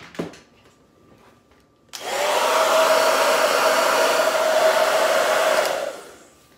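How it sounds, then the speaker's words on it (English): A handheld blow dryer runs to dry paint on a craft project, switching on after a brief click and holding a loud steady whirring hum with a whine for several seconds before cutting off. "I'm gonna take my blow dryer and I'm gonna dry it really fast to see if I need another coat of paint"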